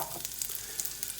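Small lumps of lamb sausage fry in a tablespoon of olive oil for a spiced lamb shakshuka, giving a steady, fairly quiet crackling sizzle with faint pops, no voices.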